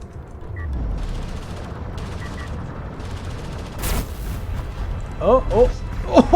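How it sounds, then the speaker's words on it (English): A mortar shell explodes in a competitive video game match, a broad burst of noise midway through, followed by sharp chirpy game effects near the end, over a steady low rumble. "clearly I was not worried about the mortar shot then. Because I ate one anyway"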